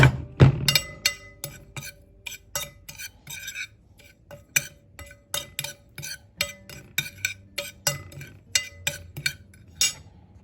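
A utensil stirring and mixing barbecue seasoning for spare ribs in a bowl, with a loud initial clink followed by a steady series of sharp scraping taps against the dish, close and alone.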